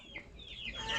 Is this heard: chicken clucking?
yes